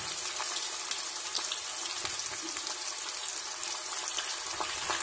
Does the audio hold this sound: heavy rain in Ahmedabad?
no